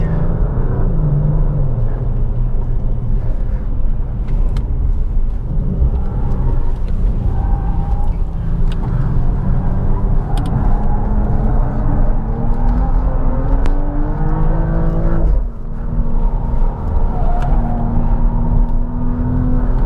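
An Audi RS 5 (2027) is driven hard on a race track, its engine giving a loud, continuous rumble and whir with rising and falling revs through the full stretch, heard close and without talk.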